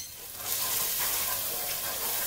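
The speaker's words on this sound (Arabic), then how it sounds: "نخلطهم مع بعض" Mhamsa pasta being stirred in a pan for Tunisian cooking, giving a steady soft sizzle with light scraping and shuffling, close and fairly quiet with no talking.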